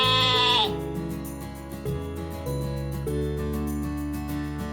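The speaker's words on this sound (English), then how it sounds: "I'm a sheep." A sheep bleats in a long, loud, wavering cry that fills the whole clip, heard up close and alone.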